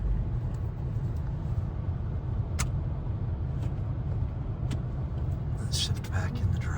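A Nissan Murano's engine drones low and strained while nearly floored, struggling to climb a driveway, a steady rumble with a person talking over it.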